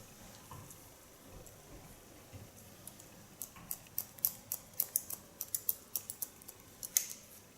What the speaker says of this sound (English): with point cut technique connect them to the baseline of cutting